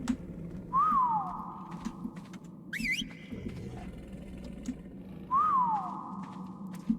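Whistles aimed at a dinosaur in an island survival video game, clear rising-falling notes heard twice a few seconds apart over a low ambient bed with a brief chirp between them.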